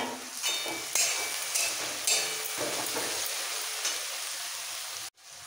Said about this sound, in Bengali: মশলাটা কষানোর জন্য।